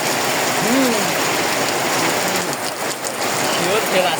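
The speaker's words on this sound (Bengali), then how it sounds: "দেখতেই পাচ্ছেন বৃষ্টিটা খুবই উপভোগ করার মতো" Steady heavy rain pours onto surfaces outdoors, dense and continuous up close, with a voice briefly heard under the downpour.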